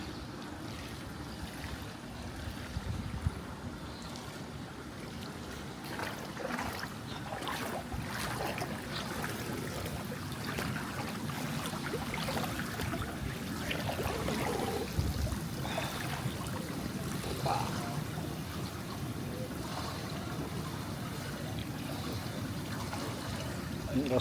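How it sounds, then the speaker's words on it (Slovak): Bubbling, gurgling water jets churn steadily in a bath or pool in a new flat in Thailand, a continuous broadband wash with scattered splashes, loud and close throughout. "Skúsime bublinky."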